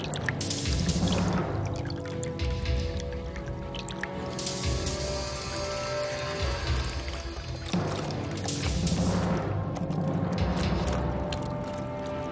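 Water drips and pours as a bottle is pulled from a water tank on a terrace, with continuous sloshing and splashing close by and several surges in loudness.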